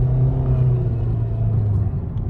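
Steady, low engine drone from a C6 Corvette under acceleration, a deep rumbling tone holding inside the cabin with a slight dip toward the end as the gear shifts.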